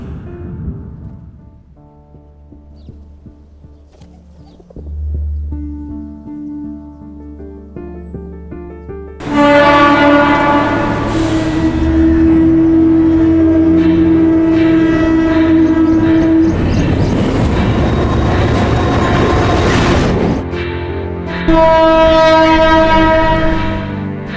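Quiet rumbling and faint tones give way to a loud, sustained train horn with harmonic blasts, over heavy rail noise at Taramani railway station; no talking.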